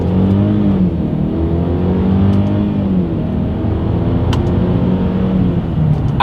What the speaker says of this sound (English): we're going to do a little combination of the paddle shifter and acceleration test here